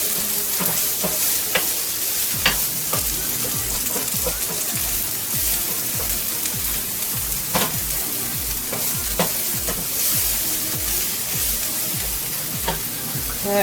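Ground beef frying over medium heat in a pan, a continuous close sizzle with crackles and repeated stirring scrapes throughout, with no talk over it.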